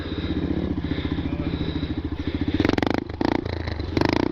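A Honda Grom motorcycle engine putters in a close, rhythmic single-cylinder beat as it rides in tight circles at a stunt meet, with sharp throttle blips near the end and no talking.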